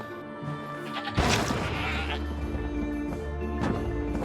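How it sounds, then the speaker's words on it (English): A goat bleats suddenly in the video game Trine 4, a loud crash-like call bursting over steady game music and fading out over a few seconds. "poor goat."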